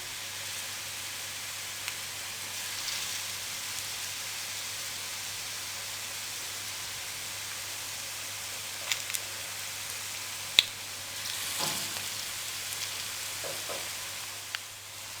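Whole green chilies frying in oil over a slow flame, a steady soft sizzle running throughout with a few faint clicks and brief crackles, close and moderately quiet, with no talking.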